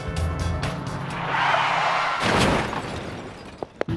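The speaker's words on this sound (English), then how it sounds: "It throws up common danger scenarios, like the car up front suddenly braking." A car in a 3D driving simulator braking suddenly, a loud swelling rush of tyre and engine noise that peaks midway and fades, followed by a few sharp clicks near the end.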